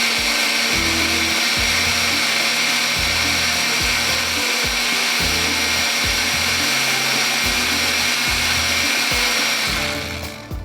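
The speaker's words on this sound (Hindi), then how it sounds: "अब मैं चलाऊँगी ब्लेंडर को अच्छी तरह से" A kitchen blender mixes saffron porridge trifle ingredients, its motor running loud and close with a steady high whine and a low pulsing churn, continuing without pause until it stops.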